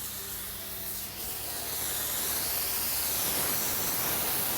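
A steady hiss of cleaner spraying out of an adhesive hose gun nozzle, building in strength after a brief dip and holding continuous to the end, close up.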